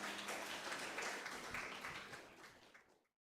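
Congregation applauding during a Christmas-season church service at GBKP Runggun Yogyakarta, a dense, steady clapping wash that carries for about three seconds before stopping abruptly.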